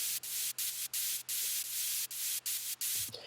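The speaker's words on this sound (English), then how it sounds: "it's white noise, just from Cashmere, and so I just layered that with the lead" A Cashmere white-noise sample layered under a synth lead and sidechained, so the bright hiss pumps in regular gated bursts, ducking out about three times a second in a steady rhythm, then fading out at the end.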